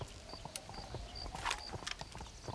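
Hooves clip-clop at an easy, steady rhythm from a horse in the Western video game Red Dead Redemption, moderately close and faint, with a thin tonal whistle drifting above and no talking.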